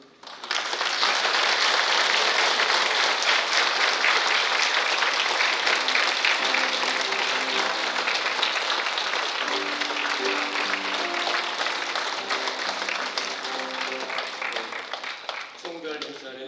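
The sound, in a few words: congregation applause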